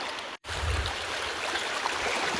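A flowing river stream beside a footpath with no bridge, heard as a steady broadband rush of moving water after a brief dropout, continuous and fairly close.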